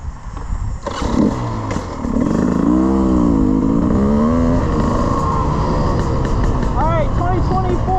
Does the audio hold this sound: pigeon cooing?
no